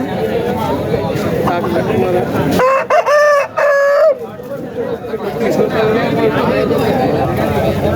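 A rooster crows once, loud and close, a drawn-out call rising over the busy chatter and clucking of a crowded country chicken market, with people talking and bargaining throughout.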